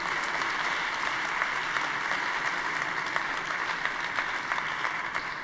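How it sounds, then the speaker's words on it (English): Sustained applause from the audience at a PES party congress in 2025, a steady dense wash of clapping holding at an even level for the whole stretch with no voices over it. "Also a big applause for these 2 new associated members."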